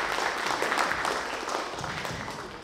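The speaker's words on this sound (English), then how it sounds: "please, a big round of applause for the committee members who have worked very," Audience applause for festival committee members, a steady dense clapping that stays loud and even throughout, with a faint voice underneath.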